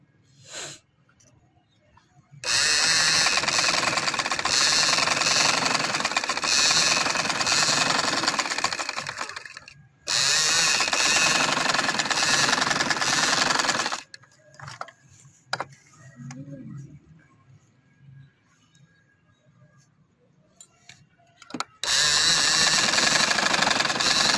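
A sewing machine stitches seams on a party-wear designer dress in three loud, sustained bursts of fast mechanical whirring, separated by quieter pauses filled with faint handling clicks.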